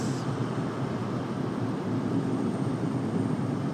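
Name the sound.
Sun Country airliner departing RDU airport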